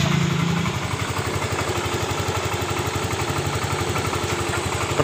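A Yamaha Mio scooter's engine, with a fault in its electric starter, cranks briefly and then idles with a close, rhythmic, even putter that stays at a steady moderate level.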